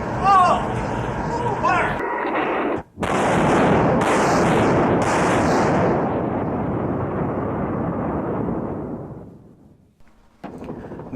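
A naval ship's gun fires with a heavy, sustained blast that rumbles and slowly fades, loud and close, after a voice speaks.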